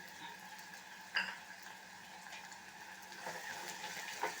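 Tomatoes, curry leaves and coriander sautéing in a pan, a faint, steady sizzle broken by occasional clinks and scrapes of a spoon against the pan.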